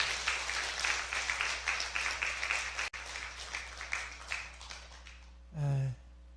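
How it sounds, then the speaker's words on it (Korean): A church congregation applauds during an evangelism service, giving a fairly loud, sustained patter of many hands that slowly thins out, followed by a brief tonal sound at the end. "우리 박수로 우리 감사의 말씀을 드렸으면 좋겠습니다"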